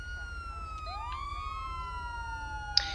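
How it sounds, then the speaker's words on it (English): In GTA V with the LSPDFR police mod and ELS lighting, a police siren wails and sweeps in rising and falling tones over a steady low engine rumble, moderately loud, ending on a short click. "you also have access to a secondary siren by pressing up on the D-pad when your siren is active"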